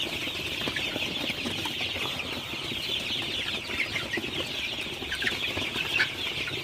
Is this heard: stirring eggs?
no